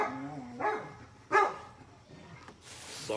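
Dogs barking indoors, several sharp barks and yips in bursts at moderate distance, with a brief noisy rustle near the end.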